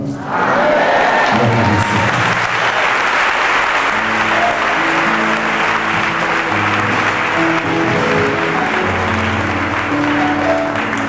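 A church congregation applauds the Lord, dense sustained clapping from a large crowd filling the room steadily for about ten seconds, with faint voices and cheers mixed underneath.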